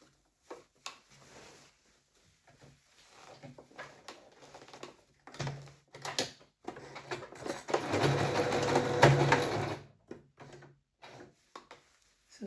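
A sewing machine stitches a handkerchief skirt for a young child in intermittent bursts, with short quiet runs and one longer steady whirring stretch, amid scattered handling knocks and taps.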